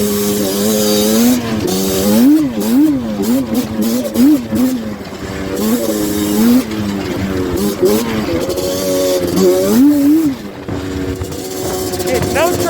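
Banshee quad revving hard while riding in snow, the engine note swooping up and down in repeated wavy pitch surges, loud and close, with brief drops between throttle blips.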